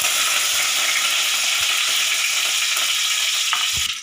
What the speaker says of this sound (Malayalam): കടുക് പൊട്ടിയതിന് ശേഷം നമുക്ക് കറിവേപ്പില ഇടാം.